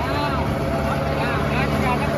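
Kubota 5502 tractor engine pulling a rotavator through soil, a steady low drone running continuously at even speed, with someone talking over it.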